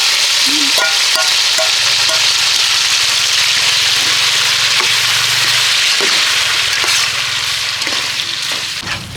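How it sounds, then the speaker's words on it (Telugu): Tiger prawns fry in hot oil in a pan, giving a loud, steady, close sizzle with occasional stirring clinks and no talk. "కొద్దిగా ఇందులోనే ఈ నూనెలోనే బాగా రొయ్యలు ఫ్రై చేసుకోవాలి"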